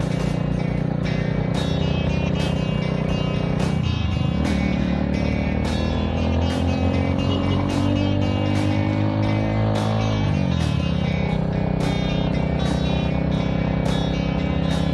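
A Rusi Titan 250 manual-transmission motorcycle engine labors steadily uphill, loud and close, with a sustained drone that rises and shifts pitch as it pulls.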